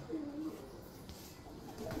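A pigeon gives a faint, short coo near the start, then quiet ambient background follows.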